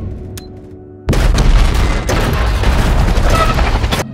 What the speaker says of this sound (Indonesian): Ambulan yang dibawa oleh anak buahnya Papi pun meledak tepat di kerumunan polisi.